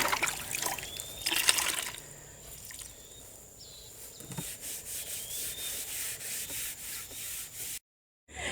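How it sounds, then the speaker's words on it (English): A cloth wipes down a wooden three-drawer dresser with plain clean water, giving soft rubbing strokes with faint trickles and drips, close by and quiet. "now I'm going to go back with a clean bucket, clean fresh water, no soap. Just plain water, and wipe it down again."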